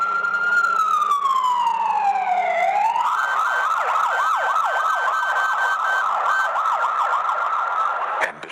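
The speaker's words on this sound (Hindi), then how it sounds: "एम्बुलेंस की सायरन," A loud ambulance siren wails in a long falling and rising sweep, then switches to a rapid repeating yelp that runs until it stops abruptly, with no voices.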